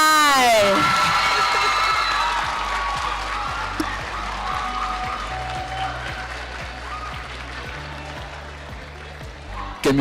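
A crowd at a national ICT summit award ceremony bursts into loud applause, whoops and cheers for the winners. After an opening shout, sustained clapping fills the hall and holds steady throughout.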